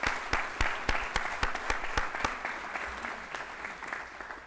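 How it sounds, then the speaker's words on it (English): Audience applause for volunteers Lisa Langley and Jill Durst at a school district board of trustees meeting, a few loud claps early then a steady, moderately loud round of clapping that slowly thins. "Y'all give them a round of applause."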